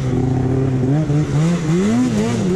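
A mountain snowmobile engine fires up and revs, a rough buzzing drone rising and dipping in pitch over a couple of seconds, close and steady with no voices.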